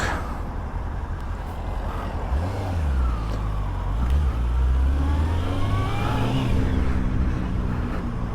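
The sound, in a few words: Honda CBF600S motorcycle riding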